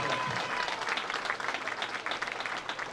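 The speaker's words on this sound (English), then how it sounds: "One more round of applause for all of our singles qualifiers for this morning's state championship." Spectators at a high school state bowling championship applaud the singles qualifiers. The clapping is brisk and continuous, with the crowd noise holding steady throughout.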